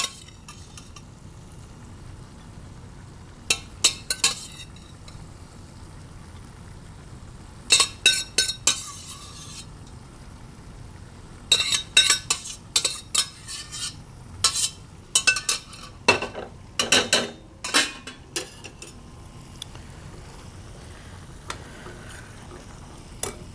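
Steamed white rice scooped into a bowl with metal utensils, scattered clinks and scrapes in irregular clusters against a quiet kitchen background, close and crisp with no talking.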